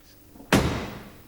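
A car door latch on a restored car shuts with a single firm, close slam, a sharp thud that rings briefly and fades in a quiet space.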